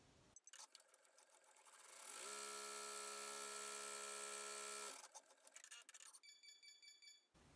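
An embroidery machine runs a placement stitch for an in-the-hoop zipper bag, starting with a few clicks, then a loud steady whir for several seconds, winding down into intermittent stitching clatter and beeps.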